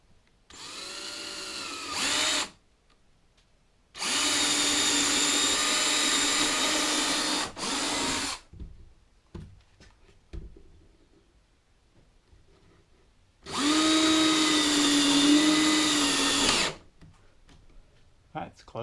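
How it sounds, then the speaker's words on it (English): A power drill bores holes for a loft ladder latch in a tiny house build, three loud whirring bursts of several seconds each, separated by quiet gaps with clicks and handling noise, close up. "Now I'm going to take the drill here and just put holes in."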